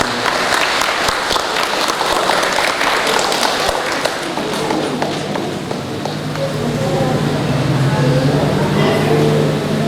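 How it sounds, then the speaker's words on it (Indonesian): Guests at a Catholic wedding ceremony clap for the newlyweds Edi and Nurnia, a dense, loud sustained applause mixed with crowd talk throughout. "Kita memberikan aplaus tepuk tangan untuk mereka."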